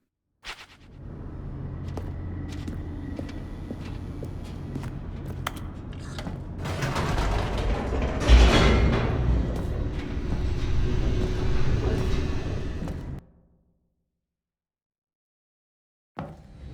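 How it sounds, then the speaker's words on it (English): Elevator plunging downward in the video game The Stanley Parable: Ultra Deluxe, a loud continuous rumbling roar that swells midway with a heavy thud, then cuts off abruptly into silence. "The elevator raced downward, plummeting towards an unknown fate."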